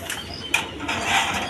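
Mosallam pigeons coo softly near a nest holding a chick and an egg, with brief low calls over a faint rustling background and a possible wing flutter.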